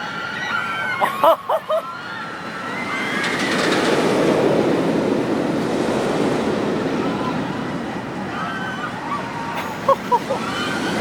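The Viper roller coaster at Six Flags Magic Mountain thunders past, a rising then fading rumble and roar from a distance with a few short clicks and squeals at either end.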